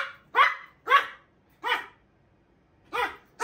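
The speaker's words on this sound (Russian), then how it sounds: "это маленькая караульная собака" A small dog barks five times, sharp and close, in an uneven rhythm with short pauses between barks.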